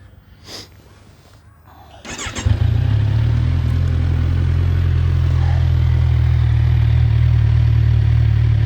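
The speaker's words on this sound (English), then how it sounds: "Let's start her up so you can see how she sounds." A 2019 Kawasaki Ninja Z1000SX with dual exhausts starts up after a few quiet clicks, catching with a burst and settling into a loud, steady, deep idle right beside the listener.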